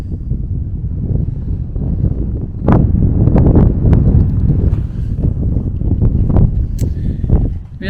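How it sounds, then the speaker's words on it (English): Loud, steady wind buffets the microphone throughout, a dense low rumble with gusts swelling and thumping at an abandoned train roundhouse in Chile's Atacama Desert. "Bit windy, sorry."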